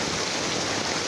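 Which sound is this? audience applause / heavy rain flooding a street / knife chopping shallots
heavy rain flooding a street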